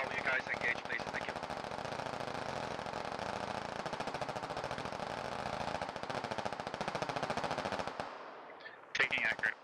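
Gunfire in a military video game: long sustained bursts of rapid automatic shots that cut off abruptly, then a short final burst, with voices faintly mixed in.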